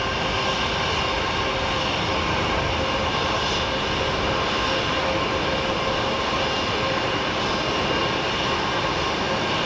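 A Boeing jet takes off at Geneva Airport, its engines making a loud, continuous roar that stays steady and unbroken throughout, with no voices over it.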